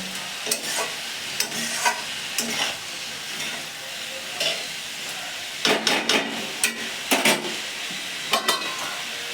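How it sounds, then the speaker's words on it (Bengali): Oats khichuri fries in a covered pan with coriander powder, giving a steady low sizzle broken by repeated sharp scrapes and clinks of stirring against the pan. "আমি এটাকে ঢাকনা দিয়ে ভালো করে এরকম ভাজবো।"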